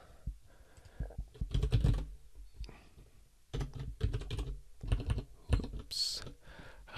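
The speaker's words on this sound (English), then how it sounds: "I've got to find the quote key on this keyboard because it's not set up for the UK." Someone types on a computer keyboard in irregular bursts of sharp clicking keystrokes, close and clear, with short pauses between flurries.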